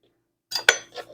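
A metal spoon scraping and clinking against a baked potato skin as a dark spot is scooped out, a few short close clicks and scrapes after a moment of silence.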